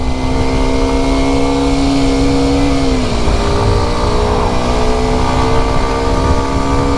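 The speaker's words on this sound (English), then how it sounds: "brake hard, clutch in, rev match, downshift" A 125cc Kawasaki motorcycle engine drones steadily, then its pitch shifts as revs blip and drop during rev-matched downshifts under hard braking, continuous and loud throughout with no voices.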